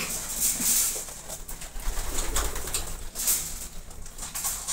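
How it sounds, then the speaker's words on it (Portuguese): A flock of pigeons comes down onto a landing trap outdoors, with soft cooing and faint wing flutters repeating over a low background hum. "Desceu 5 pombos no mergulhador já."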